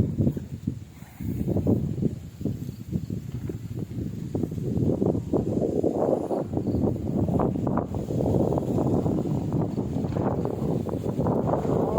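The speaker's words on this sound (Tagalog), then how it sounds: "lakas ng hangin" Strong wind blows across a banana plantation, a continuous rough rushing and buffeting against the microphone that swells and gusts over about twelve seconds, with rustling mixed in.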